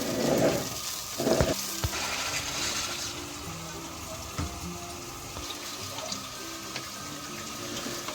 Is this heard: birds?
no